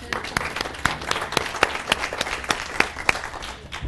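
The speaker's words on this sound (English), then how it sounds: "Round of applause" Audience applause at a seminar session, a modest crowd clapping with distinct, separate claps over a steady patter, fairly close and moderately loud.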